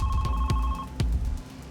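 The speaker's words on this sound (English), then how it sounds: "and her phone rang." A telephone in a cruise ship cabin rings with repeated electronic bell pulses, loud and close, with no one speaking.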